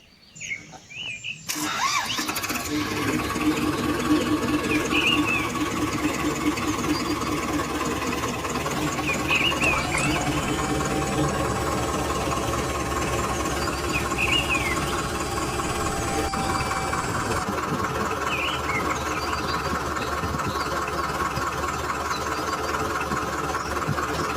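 A mini tractor engine cranks and catches, then settles into a steady, loud diesel idle with a rhythmic knocking chug that continues unchanged for over twenty seconds.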